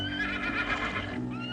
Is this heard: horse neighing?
yes